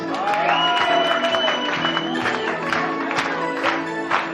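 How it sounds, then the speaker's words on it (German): Concert audience applause, a dense patter of clapping with light cheering, steady throughout, mixed under sustained music tones that fade after the first couple of seconds. "Können wir denn überhaupt noch klatschen, geht das?"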